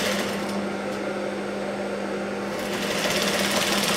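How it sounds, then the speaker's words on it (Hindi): A sewing machine stitching an old blouse gives a continuous, loud, close-up whirring drone with a steady motor hum that never pauses. "तो यहाँ पे हम लोग थोड़ी पहले सिलाई मार लेंगे, हल्की सी।"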